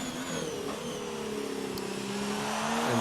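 A race car engine in an online racing sim, held at very high revs near 10,000–12,000 RPM, drones steadily with a rising pitch and sustained harmonic whine throughout.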